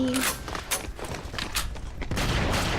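Gunfire rattles in the AvatarStar shooter game, a rapid burst of distant-sounding shots and short volleys across the whole stretch, with some speech in the background.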